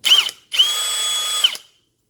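Power drill boring a hole through soft metal: a short whining burst, a brief pause, then a longer steady high-pitched whine that cuts off abruptly, close and loud.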